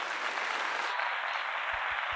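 Sustained crowd applause at the 2024 Democratic National Convention, dense and even clapping from a large audience filling the whole stretch.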